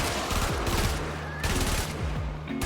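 Rapid bursts of automatic gunfire from a weapon in a first-person shooter video game, loud and close, firing in two long strings separated by a brief pause.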